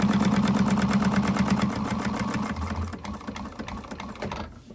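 Sewing machine stitching a 1/8 inch seam in fabric, a steady rapid mechanical chatter running close and continuous, easing slightly in pace toward the end with no talking.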